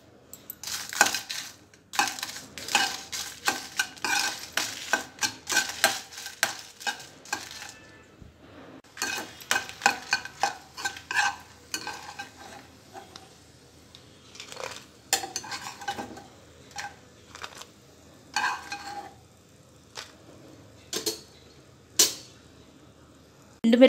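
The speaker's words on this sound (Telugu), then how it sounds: "ఆయిల్ వేడిన తర్వాత ఎండుమిరపకాయలు ఫ్రై చేసుకోవాలి" Dried red chillies fry in hot oil in a pan, with a soft sizzle under busy clattering and scraping of a spoon against the pan in irregular bursts, close by with no talking.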